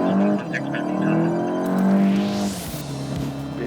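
A car drives fast on a wet road surface during a Continental tyre test with 3 mm tread depth, its engine droning steadily close by with a swelling hiss of spray before easing off.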